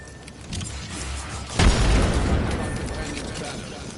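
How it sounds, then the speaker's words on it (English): A frag grenade explodes in Apex Legends, a sudden heavy boom that cuts in partway through and fades into a rumbling tail over a steady game background. "Frag thrown."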